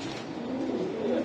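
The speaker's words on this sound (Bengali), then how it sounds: "মাল্টেস কবুতর।" Maltese pigeons cooing close by, a low continuous throaty warble that swells slightly toward the end, heard alone without talk.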